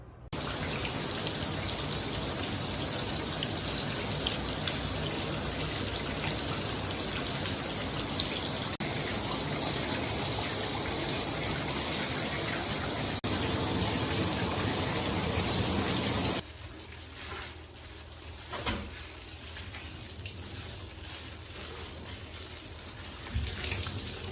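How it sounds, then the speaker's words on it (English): Cold water runs steadily from a faucet over a tie-dyed sweatshirt in a sink, a loud continuous splashing rush that cuts off abruptly partway through, leaving a faint trickle and drips. "you're going to want to run some cold water over top of the sweatshirt to let the dye"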